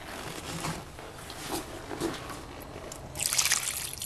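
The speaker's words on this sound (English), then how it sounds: "try putting in some water" Water poured into the barrel of a Lortone 3A rock tumbler loaded with coins, a soft close trickle and splash that builds to a brighter pour near the end.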